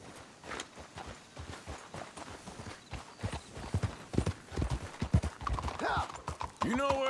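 Hooves clop in a quick uneven rhythm on hard ground, close and steady, with a horse's whinny rising near the end, in the video game Red Dead Redemption II.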